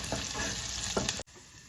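Steady sizzling of anchovies frying in a pan, close and continuous, with a brief cut near the end.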